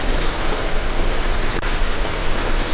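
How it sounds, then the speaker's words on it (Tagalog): Steady rain falls outside, a dense continuous hiss that stays loud and even throughout, with no voices. "Umuulan sa labas."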